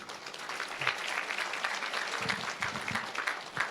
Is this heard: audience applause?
yes